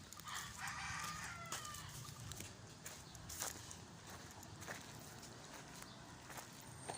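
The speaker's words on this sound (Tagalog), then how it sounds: "Dito maraming mga manok, oh." Faint clucking of chickens with occasional rustling and footsteps, heard at a distance over a quiet outdoor background.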